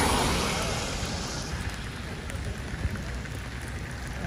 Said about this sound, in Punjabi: ਬਾਰਿਸ਼ ਭੈਣੋਂ ਭਰਾਓ ਇੰਜੋਏ ਕਰਨੀ ਆ